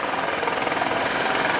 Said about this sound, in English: I think we're being cut off by a helicopter.